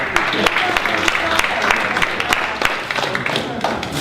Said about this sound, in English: So first off, a round of applause.